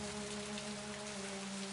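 Light drizzle falls in the video game And Then There Were None, a steady, faint hiss of rain with a low tonal hum beneath it and no voices.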